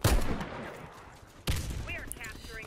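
A couple of sharp, loud rifle shots from the M14 Crazy Horse in the game Warface on Nintendo Switch, each decaying quickly, with game effects between them.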